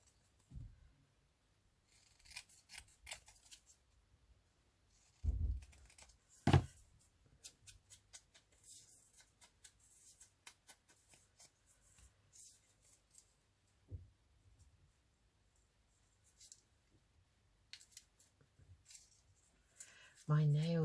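Scissors snip paper for an accordion pocket book project in short, quiet, irregular cuts spread across the clip, with a few louder knocks and handling noises in between and a voice speaking softly now and then.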